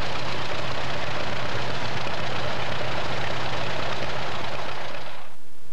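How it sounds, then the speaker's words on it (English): A rare John Deere Model AWH wide-front two-cylinder tractor engine runs steadily and loudly throughout with a continuous low throbbing drone, then cuts off abruptly near the end with no voices present. "This is the AWH, and only 16 of these were made, and that's a very rare tractor."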